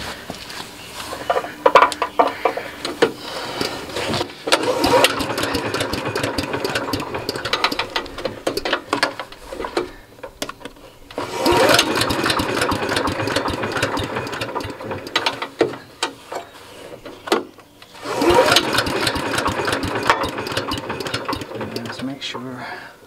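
Someone pulls the starter cord again and again on a curbside-found gas leaf vacuum with a starting fault. Bursts of rattling recoil-pull and sputtering engine noise come in repeated rounds, with pauses between.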